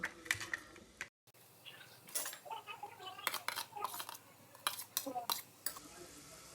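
A metal utensil mashes food in a pan while egg pulav is cooked, giving faint, close, irregular scrapes and clinks against the pan, with a momentary silent gap early on.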